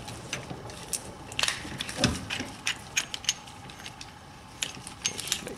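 Tool winding back the rear brake caliper piston on a BMW 5 Series, giving a string of soft irregular ratcheting clicks and small metallic creaks, close and quiet, no speech.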